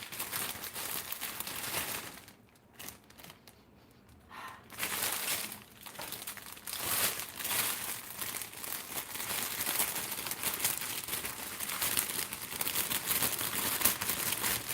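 Food packaging is crinkled and crushed close up in a steady, dense rustle that drops to near quiet for a couple of seconds early on, then resumes loudly and continuously without speech.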